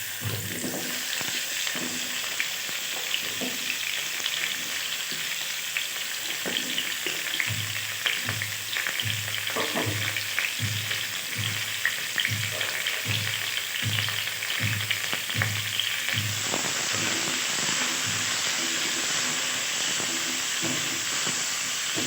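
Chopped carrot chutney ingredients fry in oil in a pan, a steady sizzling hiss broken by a regular run of scraping stirs through the middle, close and continuous with no talking.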